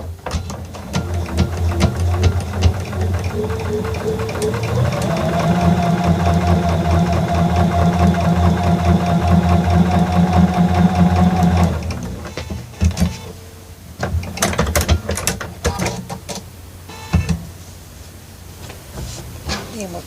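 A home sewing machine stitches through a quilt block. It runs up to a steady mechanical whir with a rhythmic needle hum for several seconds, then stops, followed by clicks and handling of fabric nearby.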